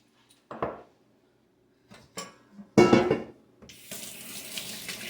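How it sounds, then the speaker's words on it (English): A kitchen tap runs while hands are rinsed, giving a few short splashes and clatters before a steady, close stream of water pours at the end. "Rinse my hands off."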